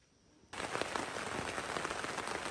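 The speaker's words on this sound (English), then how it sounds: "The sound of rain on the roof, aka the tent fly." Steady rain suddenly patters onto a taut tent fly overhead on the Appalachian Trail in Maine, a dense, even drumming that starts abruptly and continues close and constant.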